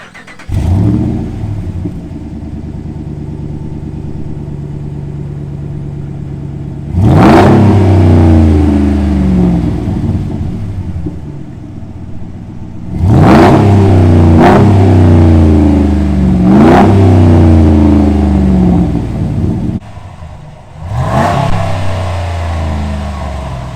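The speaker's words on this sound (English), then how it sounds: "let's do a little sound check of what the new muffler sounds like" A pickup truck fitted with a Flowmaster direct-fit Outlaw muffler idles with a deep exhaust burble, then revs hard several times, each loud, rumbling throttle blip rising and falling back to idle.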